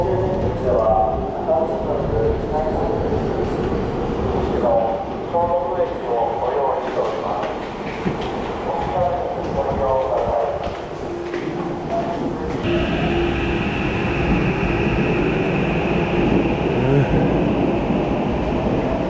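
A train hums and rumbles through a station, its tone rising into a steady electric whine, while people talk over the background bustle.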